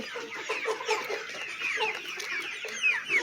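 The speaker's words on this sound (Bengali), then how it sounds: "এই দেখুন কিভাবে পানি খাচ্ছে মুরগিগুলো" A flock of chickens at a poultry farm with water drinkers clucks and chatters continuously at moderate volume, with overlapping calls and no talking.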